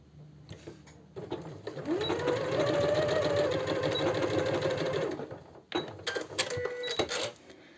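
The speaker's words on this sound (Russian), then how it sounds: "Стачиваем. Закрепка в начале, в конце." A sewing machine stitches a fabric sash belt with contrast thread, backtacking at the start and end. It gives one steady, close whirring run of about three and a half seconds, with handling clicks and rattles before and after.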